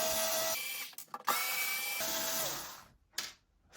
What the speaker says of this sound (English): Thank God for the electric screwdriver.